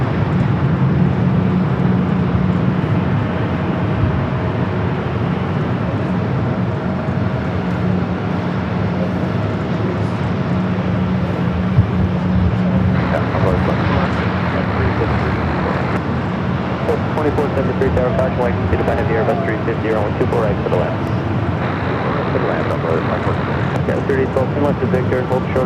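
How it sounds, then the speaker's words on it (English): An Austrian Airlines Boeing 777-200ER takes off down runway 24 left at LAX, its engines a steady low roar and whine lasting the whole stretch, heard at a distance beneath someone talking. "rolling down the 24 left. Austrian, the 777 at 200ER,"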